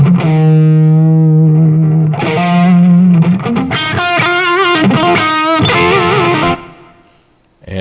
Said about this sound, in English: is from the new Seymour Duncan 805 distortion pedal